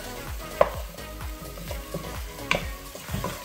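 Broccoli sautéing in ghee with onion, celery and ginger, steady close frying sizzle broken by a few sharp scrapes and clinks of stirring, no talk.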